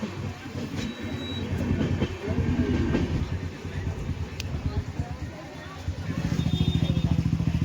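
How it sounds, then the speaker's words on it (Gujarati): A train passes a closed railway crossing in Wankaner, with a steady rolling rumble and clickety-clack of wagons that grows heavier and more rhythmic toward the end, over a noisy roadside background of waiting traffic. "અત્યારે રેલગાડી નીકળી."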